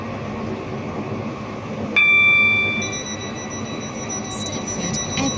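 A Stepford County Railway train in the Roblox game runs steadily with a constant rumble and hum, broken by a sudden electronic tone and a few sustained high chimes as it approaches the next station.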